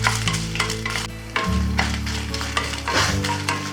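Dried red chilies, about ten of them, dry-roasting in a kadai for Burmese atho, with steady stirring and scraping plus a light sizzle. A low hum runs underneath, and the clip has no talk.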